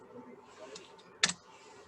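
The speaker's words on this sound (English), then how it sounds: "And then you hit enter, tab, okay, tab on your keyboard" Enter and tab keys pressed on a computer keyboard, a couple of quiet clicks followed by one sharp, louder keystroke at close range.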